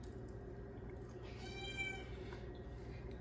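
A cat meows once, a drawn-out plaintive call over a steady low hum, fairly faint and somewhat distant in a room where barbecue is being served.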